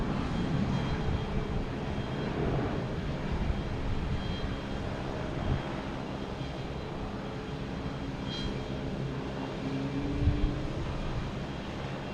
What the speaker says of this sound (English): We have a JetBlue heading to San Francisco, I think. Yes, speeding up. An A321.